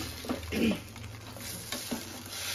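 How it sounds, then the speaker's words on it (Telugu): Gobi manchurian being stirred in a small kadai, with a spoon scraping and knocking against the pan over a soft sizzle, loudest near the start and then settling into quieter stirring strokes. "దాంట్లో ఇప్పుడు మంచూరియా వేసేసుకొని బాగా మిక్స్ చేసుకోవాలి."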